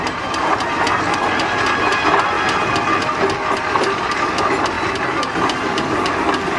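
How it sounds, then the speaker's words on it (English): A West Riding of Yorkshire County Council steam roller runs at a steam rally, giving a loud, continuous mechanical churn with a fast, regular ticking beat throughout, close by and with no talk. "The last new steam roller that was bought by the West Riding of Yorkshire County Council"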